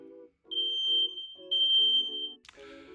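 A household smoke detector sounds its test alarm when its button is pressed, giving a piercing high electronic tone that holds steady, with several low hum bursts underneath and a harsh final chirp.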